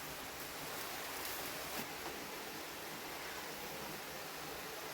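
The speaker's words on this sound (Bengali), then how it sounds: "এই এতক্ষণে বৃষ্টি শুরু হলো এইদিকে।" Steady rain falls as a continuous, even broadband hiss, faint and distant, with no other clear sounds.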